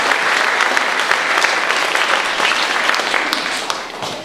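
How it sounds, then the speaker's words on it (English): Loud, sustained applause from a crowd at an annual general meeting, dense clapping throughout with no one speaking. "That deserves a round of applause, people."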